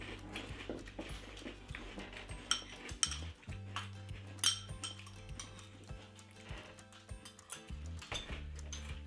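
Spoon clinking against a cereal bowl while someone eats Apple Jacks, with repeated light metallic taps and scrapes in an irregular rhythm, close up, over a low steady background hum.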